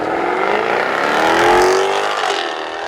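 A Jaguar F-Type R sports car engine revving hard, a loud, rising and swelling exhaust roar that peaks mid-clip and then eases slightly, heard close with no talk.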